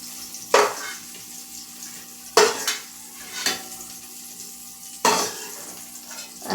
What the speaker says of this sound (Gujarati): આપણા ભીંડા છે જે ચડી ગયા છે હવે આપણે તેને નીકાળી લેશું